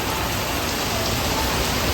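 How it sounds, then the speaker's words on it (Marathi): Heavy monsoon rain pours down in a loud, dense, unbroken roar, close by and constant from start to finish. "पाऊस चालूच आहे बारीक नाही जोरातच चालू आहे"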